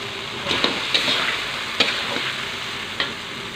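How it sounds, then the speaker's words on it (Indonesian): Salem fish frying in sizzling Balinese spice paste in a pan, a constant oily hiss punctuated by several sharp clinks and scrapes of a spatula. "Sekarang saatnya kita masukin ikannya."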